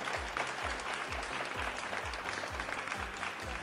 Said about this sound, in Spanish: Un aplauso para Cristian, por favor.